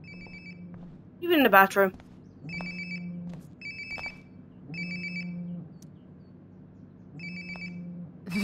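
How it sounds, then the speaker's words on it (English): A mobile phone rings repeatedly in the video game Life is Strange: Before the Storm, a regular pattern of short tonal chirps with pauses between them, while a voice speaks briefly over one of the rings. "Sounds like my phone is definitely nearby."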